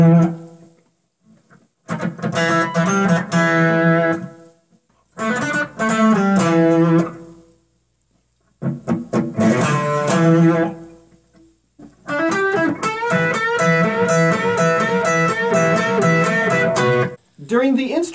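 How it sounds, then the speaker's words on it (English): An electric guitar rhythm part is strummed with a wooden pick through effects, giving an edgy, scratchy attack. It plays in several separate bursts of chords divided by short silences, up close and with no talking. "The wooden pick increases that edgy scratch sound you hear."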